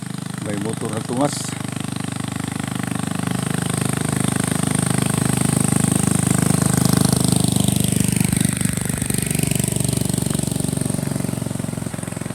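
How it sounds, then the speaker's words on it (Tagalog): A motorcycle climbs a hill on a morning ride near Lumbayagan, Tandag City, Surigao del Sur, its mid-pitched engine droning steadily and close for the whole stretch, swelling slightly as it labors, with wind and faint background sounds. "Tungas ang motor."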